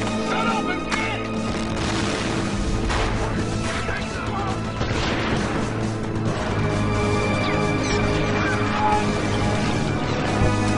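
Dense gunfire and explosions from a war film trailer with Marines in battle, a constant loud barrage of shots, blasts and crashes layered with music and shouted voices.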